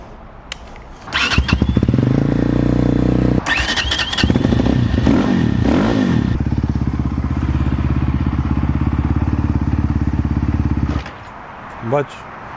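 KOVI Lite 300 R motorcycle on a first test ride after assembly: engine catches and runs loudly with revving and mechanical clatter, then abruptly stalls as the clutch is engaged, with sticking clutch plates, leaving near silence and a brief noise.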